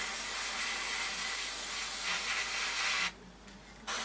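Airbrush spraying paint into the wheel well of a Tamiya 1/32 F-16CJ model, a close, steady hiss that cuts off near the end and then briefly resumes.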